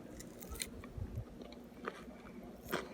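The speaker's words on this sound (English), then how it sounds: "Now I'm gonna try some of Howie's meat real quick" Bites and chews into fried rabbit leg cooked over a fire or stove, close crunchy and moist mouth sounds in an uneven rhythm, with a few sharper crunches.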